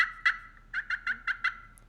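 A handmade walnut friction turkey call, played with a custom striker, gives a quick series of about seven loud, clear yelps. The yelps come in a close, uneven rhythm over a quiet background.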